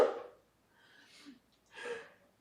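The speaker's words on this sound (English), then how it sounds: "Excuse me, I had to sneeze twice." Two quick sneezes from one person a short moment apart, fairly close and soft, each a sharp burst of breath in a quiet room.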